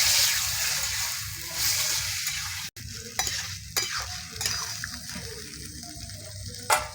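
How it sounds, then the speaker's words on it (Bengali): Ridge gourd pieces and potato fry in a pan while being stirred, giving a steady sizzle with scraping strokes and a brief gap midway, then irregular clatter and hiss close up. "ভালো করে নেড়ে চেড়ে নেব।"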